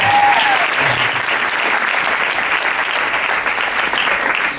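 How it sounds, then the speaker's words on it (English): Crowd at a Beachbody Super Sunday event in Miami giving a big, sustained round of applause, dense even clapping throughout with a brief voice at the start. "big round of applause for everybody"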